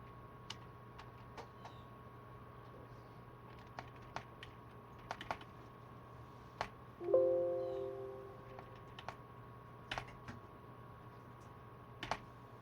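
Someone types a message into notepad on a computer keyboard, scattered soft key clicks coming in short irregular bursts over a quiet electrical hum, with one brief louder tonal blip midway.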